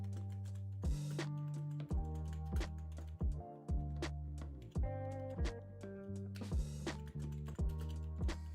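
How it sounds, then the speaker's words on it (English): Keys clatter on a computer keyboard in quick uneven bursts of typing, close and clear, while background music with steady tones plays underneath and no one speaks. "I'm just typing."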